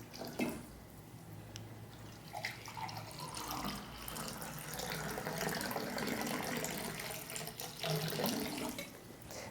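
Water pouring into a drinking glass or cup, a steady trickling stream running for several seconds at close range with no talking.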